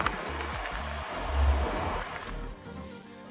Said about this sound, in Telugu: నార్మల్ సౌండ్ లాగే ఉంది మరీ స్పోర్ట్స్ బైక్ సౌండ్ అని చెప్పలేం జస్ట్ నార్మల్ స్కూటీ ఇది